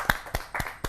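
Four distinct claps about a quarter second apart at a Hindi kavi sammelan poetry gathering, sharp and fairly close, greeting poet Preeti Tripathi.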